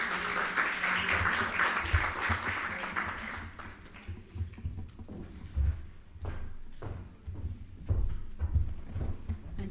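An audience at a national health research conference gives a round of applause for the presenters. The clapping is moderately loud at first, then thins into scattered claps and soft thuds before fading out.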